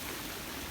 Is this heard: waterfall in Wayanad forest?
yes